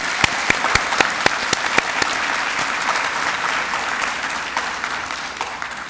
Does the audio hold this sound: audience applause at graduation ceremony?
yes